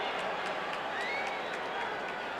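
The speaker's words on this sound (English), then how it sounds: "Crowd reacting again to the Pittsburgh-Cincinnati score" A stadium crowd at a 1979 Redskins–Browns football game in Cleveland reacting to the Pittsburgh–Cincinnati score, a steady distant roar with faint cheering and clapping that holds throughout.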